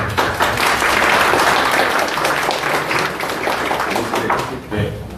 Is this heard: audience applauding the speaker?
yes